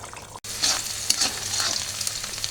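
Over-salted meat curry is poured into khichuri cooking in a pot, giving a brief drop in sound and then a loud, close bubbling sizzle with stirring.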